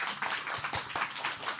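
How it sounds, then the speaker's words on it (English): Audience applause, a short stretch of steady, moderately quiet clapping from a small crowd. "Please give a round of applause for Shannon."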